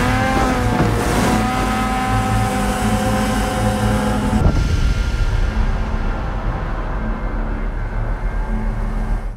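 Snowmobile engine riding through snow: a loud, close motor drone with a strong rising pitch that drops off midway and settles into a rougher, lower rumble as the machine moves away.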